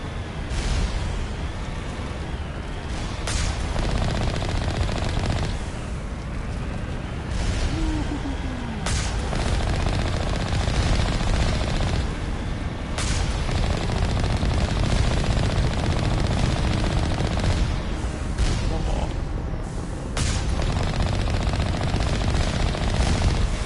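Turrets firing machine guns in the video game Mass Effect, a dense, loud, continuous roar of rapid gunfire with sharper blasts breaking through now and then, lasting throughout.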